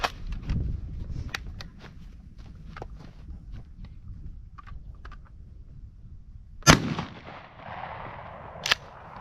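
A shotgun fired with turkey loads at targets outdoors: two sharp, loud reports several seconds apart over a low background rumble and scattered faint ticks.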